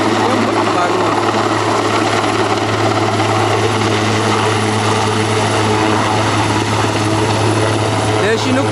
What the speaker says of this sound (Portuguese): O helicóptero de resgate aí.